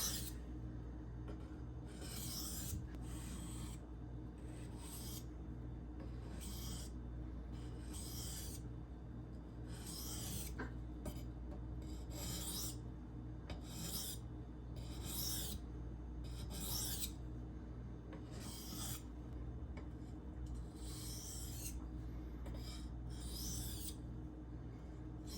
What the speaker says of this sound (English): Comes the fun part of removing the burr.